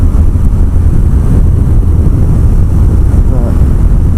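BMW F800 GS parallel twin motorcycle (2017) ridden on greasy roads, its engine a steady, loud low drone mixed with wind rush, with no clear rev changes.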